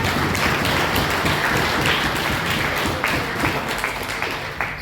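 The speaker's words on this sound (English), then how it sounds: "And clap them." Sustained audience applause fills a gala dinner hall, dense, steady clapping from a large crowd throughout with no pauses.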